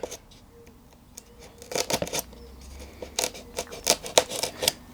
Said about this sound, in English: I'm cutting through the balsa and then I've got to cut through the veneer